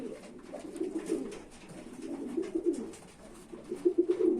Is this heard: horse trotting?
no